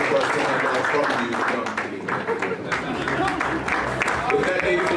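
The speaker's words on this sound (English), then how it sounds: "To Mr. Leafright and Mr. Glenister, a big round of applause." An audience at the CGL Awards 2021 ceremony breaks into sustained applause, a dense wash of many hands clapping that holds steady for several seconds, with a voice speaking over part of it.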